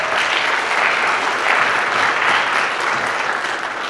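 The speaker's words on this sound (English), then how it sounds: "So please give them another round of applause." Audience applause for students at a Black History program, steady and sustained clapping from a large crowd with no talk over it.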